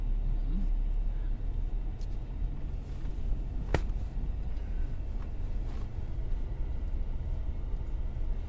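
A car rolls slowly through the south gate into St John's Cemetery, with a low steady interior rumble, a sharp click partway through and occasional quiet voices.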